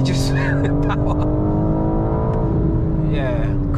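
A BMW M car with a ZF gearbox accelerates hard at full throttle, its engine note climbing in rising harmonics from inside the cabin, loud and continuous, with a person talking over it.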